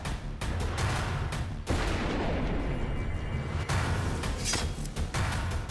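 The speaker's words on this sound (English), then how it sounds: "Someone's gonna shoot my blade with a gun." A gunshot fired at a hand-forged blade rings out loud and close, a sharp blast with heavy rumbling decay, followed by a second burst of crackling impact noise; no talking.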